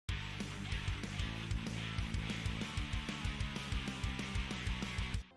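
An anime-style opening track section plays with drums in steady regular time, punchy kicks and snares driving a full band arrangement with bright, dense upper layers, loud and continuous before stopping abruptly.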